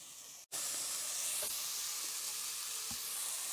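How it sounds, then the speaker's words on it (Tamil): Onions sautéing in a pan for rava kichadi make a continuous close sizzle after a brief cut. Faint stirring taps now and then sit under the bright, even hiss. "வெங்காயம் எல்லாத்தையும் போட்டு நல்லா வதக்கிடலாம்."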